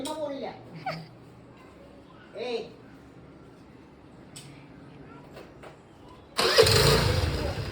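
After some brief talking, a scooter engine suddenly starts up nearby and runs loudly.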